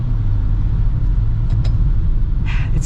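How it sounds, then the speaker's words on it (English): Maserati Levante GranLusso (2021) SUV engine droning steadily from inside the cabin while short shifting, a constant low rumble with a brief faint hiss near the end. "I'm kind of short shifting right now."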